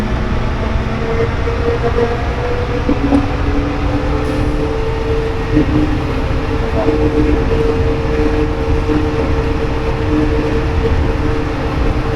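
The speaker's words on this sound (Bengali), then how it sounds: "আমরা মেট্রোতে করে চলে যাচ্ছি আমাদের নির্দিষ্ট টার্মিনালে বিমানের কাছে আমাদেরকে মেট্রো করে নিয়ে যাওয়া হচ্ছে" Steady rumble of an airport metro train carrying passengers to the terminal, a continuous loud low roar of wheels and motors with no talking.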